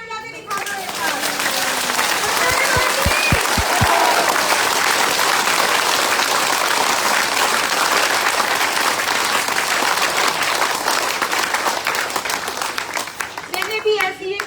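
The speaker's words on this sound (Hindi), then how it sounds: "दोनों हाथ ऊपर करके शेरों वाली तालियां बजा के दिखा दो एक बार" A large audience claps with both hands raised, a dense, loud burst of applause that begins after a few sharp individual claps. It holds steady for about thirteen seconds, then breaks off abruptly, with a few voices at the end.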